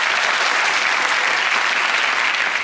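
Studio audience clapping in steady, dense applause at a comedy panel game show recording, sustained and loud throughout with no talk over it.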